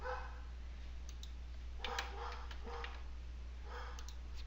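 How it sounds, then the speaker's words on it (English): A dog barks repeatedly in the distance, faint clustered yaps heard over a steady low electrical hum, with no voices. "My dog is losing her mind again."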